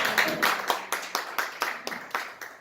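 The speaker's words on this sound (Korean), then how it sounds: "박수 한번 하세요. 박수." A church congregation at a Friday night worship service applauds, with a loose run of close claps and rhythmic hand-clapping lasting a few seconds.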